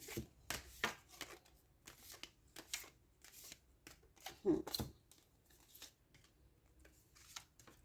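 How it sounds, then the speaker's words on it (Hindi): Tarot cards shuffled and drawn from the deck, a run of soft papery riffles and slaps in an uneven rhythm, close up and fairly quiet. "सेलेक्टिवली मैंने कुछ कार्ड्स पिक कर लिए हैं"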